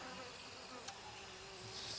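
Flies buzz in the video game Gray Zone Warfare, a faint continuous insect drone hovering steadily in the background with no talking.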